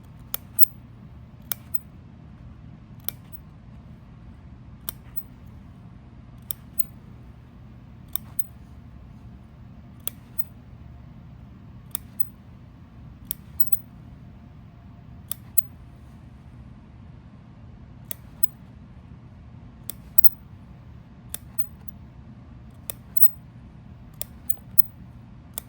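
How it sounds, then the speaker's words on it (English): Scissors snip through messenger bag fabric in a steady series of sharp, close clicks, roughly every second or two, over a low steady background hum. "Now that we're done with all of our snipping"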